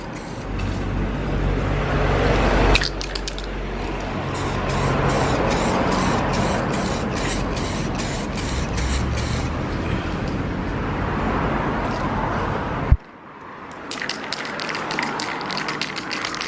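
Integra Type-R side skirts are spray painted, loud continuous spray hiss with rapid rattling clicks from the spray gun, a sharp knock partway through, then the spraying resumes in short bursts.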